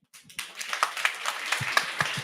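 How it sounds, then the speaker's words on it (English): A small audience at a WarsawJS JavaScript meetup claps, starting with a few hands and building into brisk, close applause. "Give them a big hand."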